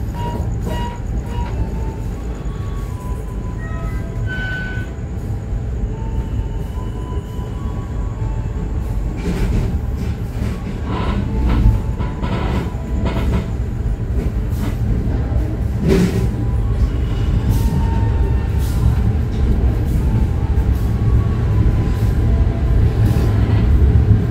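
Tegal Bahari passenger train departing Cikarang in the evening, a loud continuous low rumble of railcars rolling on track, growing slightly louder over time, with scattered clanks and brief squeals, no talking.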